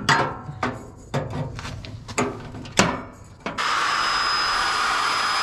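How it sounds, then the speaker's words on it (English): Drilling a hole through a Nissan 240SX core support: several short, sharp bursts of the drill biting into the metal, then a sustained high whine as it runs steadily to the end. "got that beautiful hole drilled"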